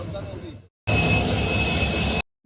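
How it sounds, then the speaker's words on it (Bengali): Loud rumble and high metallic squeal of a train pulling into a station, close by, cut off abruptly with brief gaps of silence. "এই যে ট্রেন ঢুকছে"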